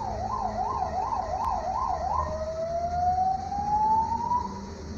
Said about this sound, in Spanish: siempre que grabo un vídeo debe de haber una ambulancia